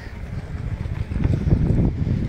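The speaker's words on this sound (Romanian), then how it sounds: "Bate vântul?" Low, rumbling wind gusts buffet the microphone on a mountain at Crucea Talienilor in the Stânișoara Mountains, rising toward the end, with no clear talk.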